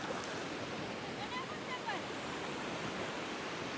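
Sea waves wash continuously along the shore at a coastal shrimp-fishing spot, a steady, dense roar with no breaks.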